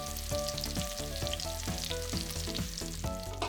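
Inari tofu pockets simmering in sauce in a covered pan over medium-low heat, a loud, dense, continuous sizzle with quick rhythmic bubbling pops, close and steady, no voices.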